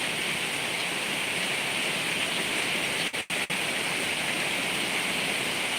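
Heavy rain pours steadily in a dense, unbroken roar close by, with only a brief dip midway and no voices.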